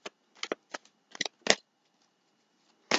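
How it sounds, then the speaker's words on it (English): Tarot cards shuffled by hand, a few short, dry riffles and snaps in an uneven rhythm, close and fairly quiet, with pauses between bursts. "I don't know why I'm shuffling."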